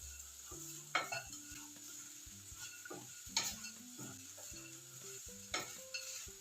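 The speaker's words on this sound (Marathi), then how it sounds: "चपातीचा चुरा सर्व घातलेला मसाला व्यवस्थित मिक्स करून घेऊयात" A spoon stirs leftover chapati crumbs and masala in oil in a pan for chapati chivda, scraping and clinking in uneven strokes over a soft, steady sizzle; quiet and close, with no speech.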